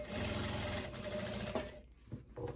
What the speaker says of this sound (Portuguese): E é só costura reta aqui